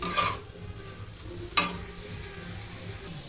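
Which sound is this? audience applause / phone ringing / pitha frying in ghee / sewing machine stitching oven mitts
pitha frying in ghee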